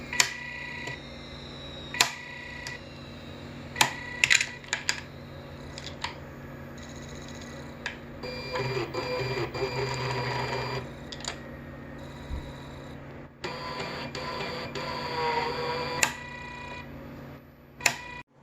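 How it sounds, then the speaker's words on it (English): Mechanical whirring of a Connect 4 robot's screw-driven elevator mechanism with guide rods, a low motor hum with sharp clicks and ticks scattered throughout, two longer stretches of louder grinding movement, close and without talk. "This is the elevator mechanism."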